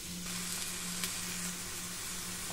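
Samosa filling fries in a pan with a steady, close sizzle and crackle that holds evenly throughout, with no voices.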